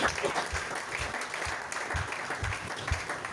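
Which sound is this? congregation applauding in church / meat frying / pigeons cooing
congregation applauding in church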